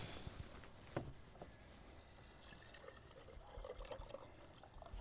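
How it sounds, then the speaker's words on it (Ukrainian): Water pours steadily into a small one-litre jar holding a powdered preparation for treating grapevines, a continuous trickling splash with a few faint clinks, fairly quiet throughout. "Наливай води."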